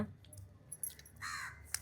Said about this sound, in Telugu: కాకి వచ్చింది